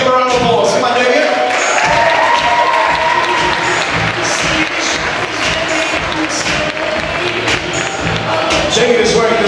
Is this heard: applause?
yes